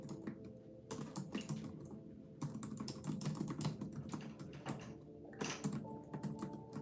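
Fast, steady typing on a computer keyboard, close and fairly quiet, with short pauses between runs of keystrokes and no talk.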